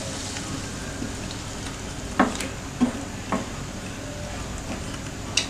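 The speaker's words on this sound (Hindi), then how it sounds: "ये हमने इसमें डाल दिया दाल और इसको अच्छे से चला देंगे।" Lentils for dal fry sizzle steadily in a pan while a spoon stirs them, a constant soft frying hiss broken by a few distinct scraping clinks against the pan.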